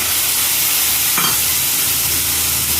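Masala sautéing in a pan with sour yogurt, Kashmiri chilli and soy sauce, a loud continuous hiss and sizzle with a faint stir near the middle, no talking.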